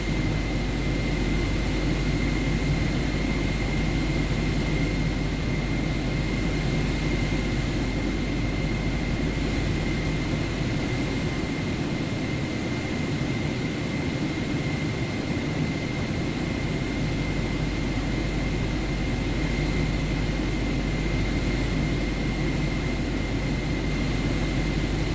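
Steady, loud aircraft engine drone while taxiing to the runway in Microsoft Flight Simulator 2024, a constant broadband roar with a faint tonal whine, unchanging for the full stretch.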